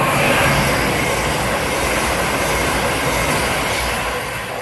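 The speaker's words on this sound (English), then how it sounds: "And right on cue, the whole train is over." A train on the East Coast Main Line at Welham Green roars past near and loud, a dense, steady rumble with wheel noise that holds for several seconds before easing slightly.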